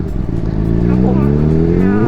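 Motorcycle accelerating along a forest road in Sweden, a loud close engine note rising steadily in pitch over a couple of seconds.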